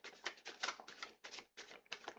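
A deck of tarot cards being shuffled by hand, a quick series of crisp riffling bursts with short pauses between them, close and fairly quiet with no talking.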